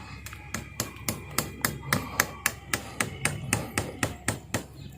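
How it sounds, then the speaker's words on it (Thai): Steady, rhythmic hammer blows driving a three-inch nail into the base of a tree trunk, about three per second, sharp and close, with no talking. "ตอกตะปูเลยนะครับ ตะปู สามนิ้วเลยนะครับ ตอกลงไป"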